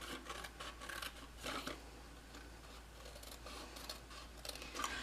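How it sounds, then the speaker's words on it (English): Scissors cut along a score line on paper for a small Easter basket, a few faint, close crisp snips and rustles in short bursts over quiet background. "Then we're going to go ahead and cut on the score line."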